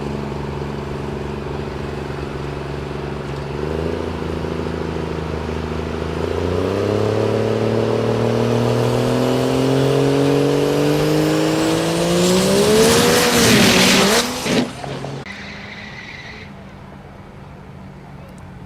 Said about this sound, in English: Apparently this is a 1945 Chevy. This is a diesel-powered vehicle, so Cummins.